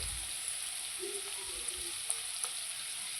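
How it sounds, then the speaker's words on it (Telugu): Bitter gourd pieces fry steadily in hot oil, giving a continuous close hiss with a few soft pops and light stirring knocks, no voices. "కాకరకాయలు అయితే బాగా ఫ్రై అయ్యాయి ఆయిల్లో"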